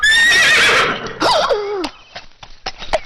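A horse neighs loudly and close, a long shrill whinny with a falling tail, followed by a short snort and scattered light knocks and clatter.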